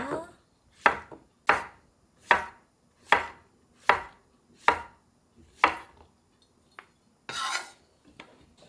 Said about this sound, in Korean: 여기 줄기 부분은 길게 썰 거예요.